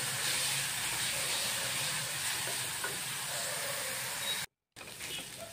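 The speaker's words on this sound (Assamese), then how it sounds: "এতিয়া এইখিনি একদম অলপ মানে পানী শুকোৱালৈকে মানে তেল বিৰিঙালৈকে অলপ ভাজিম" Mustard paste frying in hot oil in a kitchen pan while cooking a drumstick and mustard curry, a steady loud hissing sizzle that runs throughout and cuts out briefly near the end.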